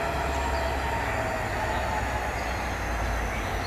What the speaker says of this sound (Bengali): আর এদিকে ট্রেন এসে পড়ছে, মানাস রাইনো প্যাসেঞ্জার